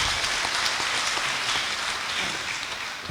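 Steady, dense applause from the guests at a wedding ceremony, a continuous hiss-like patter of many hands held at an even level before easing slightly at the end.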